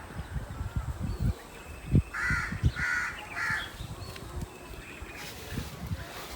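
A crow cawing near a canal at the edge of a Punjabi village, three loud harsh caws in quick succession, over a background of soft rustling and low thumps outdoors.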